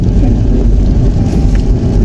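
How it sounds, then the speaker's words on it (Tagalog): Heavy rain drums steadily on a moving car, a dense continuous wash with low road rumble underneath, loud and close throughout with no talking. "Grabe ang ulan."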